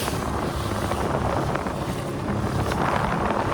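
A fishing boat's engine runs out at sea on a fishing trip, its steady drone mixed with loud, constant wind buffeting the microphone.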